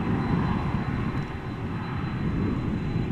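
A United Boeing 767-400 approaches Amsterdam Schiphol, heard as a steady distant broadband jet rumble that stays even and unbroken for the whole short stretch.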